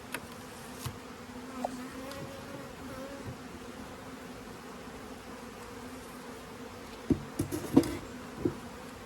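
A soft, steady buzz of bees hums throughout, with a few faint taps and clicks toward the end, nearby but quiet.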